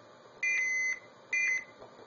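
An Arduino blue box sends a CCITT SS4 KP2 signal: two clean, loud electronic dual-tone beeps, the first held longer and the second shorter, with quiet between.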